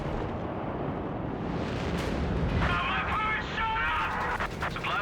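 An artillery barrage in the real-time strategy game Company of Heroes 3 comes through as a dense, sustained roar of booming blasts and rumbling explosions. A voice speaks over it through the second half.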